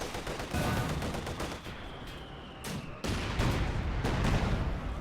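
Mortar shells and small-arms gunfire in the WWII strategy game Company of Heroes 2, a dense, continuous battlefield clatter of rapid shots and thuds with louder bursts near the end.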